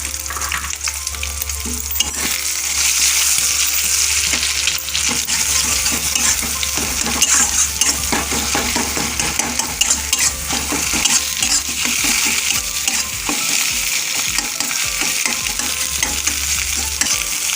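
Eggs fry with turmeric and chilli powder in a pan with a steady, close sizzle, broken by frequent scraping and clinking as a utensil stirs them.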